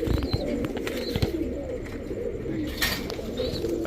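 Soft fancy pigeon coos murmur continuously in a busy loft, with a few brighter bird calls and wing flutters scattered through the steady background.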